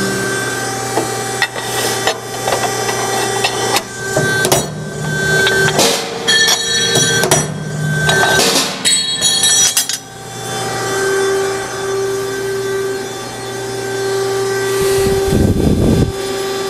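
JMT IW110 120-ton ironworker shearing two pieces of angle, with metallic clanks and scraping bangs from the blade and steel under a steady machine hum, closing with a heavier thud near the end.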